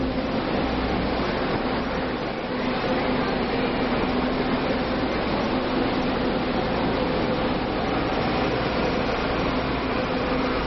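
Inside a crowded moving train, a steady broad rumble and whir of the carriage fills the space continuously, with faint voices murmuring underneath.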